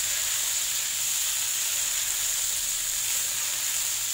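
Leunca vegetables stir-frying in a pan with tauco sauce, giving a steady, fairly quiet sizzling hiss throughout with no talking.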